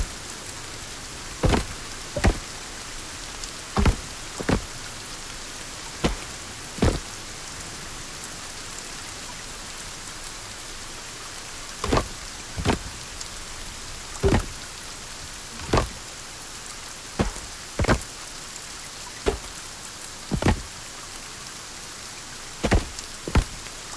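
Steady rain falls in the survival game Sons of the Forest, a constant soft hiss broken by sharp, scattered drip taps at irregular intervals, with no voices.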